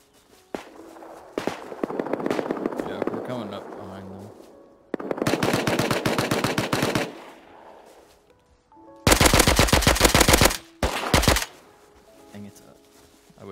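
Bursts of rapid automatic gunfire from the video game Rust, several long loud volleys and shorter strings of shots separated by quieter gaps, with players talking over the action.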